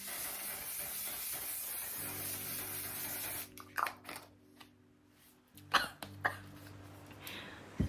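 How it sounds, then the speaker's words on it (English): A can of makeup setting spray hisses in a long continuous burst onto a face, followed by a few coughs and throat clearing. "spray my face"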